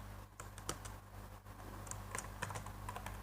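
Fingers tap rapidly on a computer keyboard, a quick irregular run of light clicks, close and fairly quiet, with no talking.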